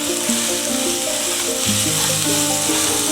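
Onions frying and being stirred in a pan for a chicken omelette: a steady bright sizzle that fills the clip, with a tonal hum running underneath and no talk.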